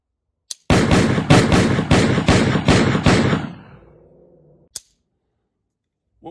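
Six rapid revolver shots fired in quick succession, loud and close with sharp reports and ringing tails, then a fading echo and a couple of isolated clicks or thuds, no voices.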